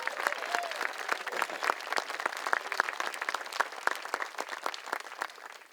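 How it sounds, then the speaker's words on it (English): Audience applause at a Juneteenth heritage walk event, a steady crowd of clapping hands that holds for several seconds and then starts to fade, with no talking. "Let's give you another round of applause."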